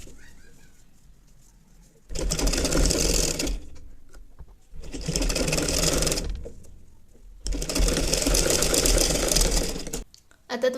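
A sewing machine stitching fabric for a baby's petticoat runs in three loud, sustained bursts separated by quiet pauses, with faint bird cooing in the background between runs.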